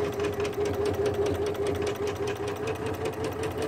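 Janome 350e embroidery machine stitching quilting designs in a large hoop, a steady mid-level mechanical whir with a fast, even needle rhythm running throughout without talk.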